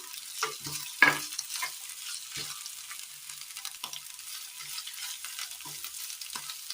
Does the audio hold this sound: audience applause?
no